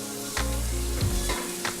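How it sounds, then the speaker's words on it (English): Cucumber is being sautéed in a pan with onion and garlic over medium-low heat. A close, loud sizzle fills the clip, with a deep rumbling scrape of stirring and a few brief clinks. "I'm going to add my cucumber now and just kind of saute that"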